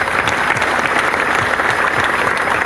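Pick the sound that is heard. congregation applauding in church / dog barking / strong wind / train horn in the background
congregation applauding in church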